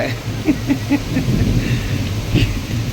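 Heavy rain falls in a constant wash, with low thunder rumbling beneath it and a few short louder bursts along the way.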